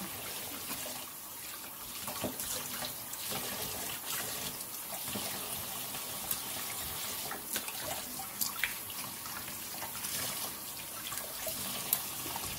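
Chitterlings washed by hand under a running kitchen tap, a steady stream of water with occasional splashes and handling clatters, close and continuous with no talking.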